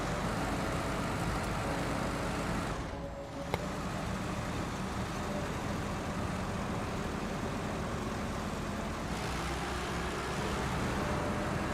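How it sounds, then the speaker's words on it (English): A heavy fuel-carrier truck in a trucking video game rumbles with a steady low engine drone and broad roadway hiss, continuous and fairly faint throughout, briefly dipping once midway, with no talk over it. "I hate this sound, this truck."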